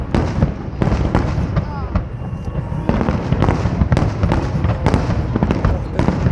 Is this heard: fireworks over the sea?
yes